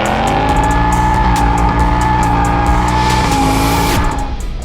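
A 500 hp naturally aspirated V8 drift car engine roars loud and close at a sustained high pitch, with tire squeal layered over the steady howl before it eases off near the end.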